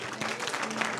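A church congregation applauds during a Sunday service, a dense steady wash of clapping from many hands, with voices mixed in underneath.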